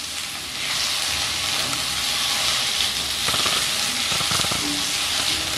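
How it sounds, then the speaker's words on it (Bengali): Raw green mango pieces fry with tempering spices and dried red chilies in a pan, giving a steady, close sizzle that runs through the whole stretch with a few brief stirring scrapes and no voices. "মিনিট 2 ধরে প্রথমে এই কাঁচা আম ফোড়নের সঙ্গে ভালো করে ভেজে নিতে হবে।"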